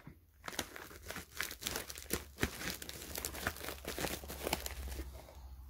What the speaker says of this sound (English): I got my scissors, so let's cut this package open.